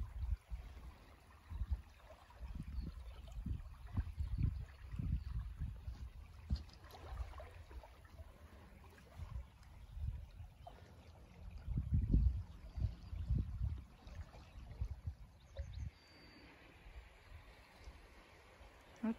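A spring river rushes and churns, giving a faint, uneven low gurgling and swirling rumble throughout.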